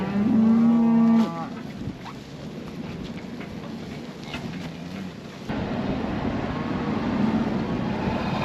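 A cow in a herd of cattle lets out a loud, close moo at the start, then another fainter low moo follows later over outdoor background noise.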